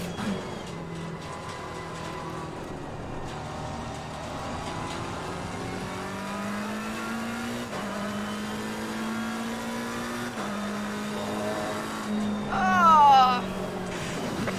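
A race car engine in a sim racing video game, a steady droning whine whose pitch climbs and drops through gear changes over a lap, with a brief squeal near the end and a voice talking over it.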